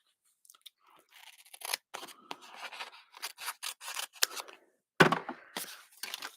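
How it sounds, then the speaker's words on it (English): Scissors snip through double-sided adhesive in a series of short, close, crisp cuts and rustles, with one louder crunching snip near the end. "I'm just going to cut a piece off."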